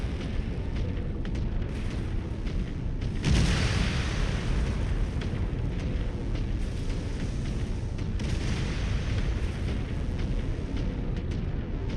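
Artillery fire in a mech combat video game: a dense, continuous rumble of booming blasts, with a heavier burst around the third second and again near the eighth, loud throughout with no talk.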